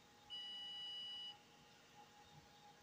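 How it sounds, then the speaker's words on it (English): An oven in a home kitchen gives a single steady electronic beep lasting about a second, fairly clear over a quiet room hum. "There's the beep of the oven"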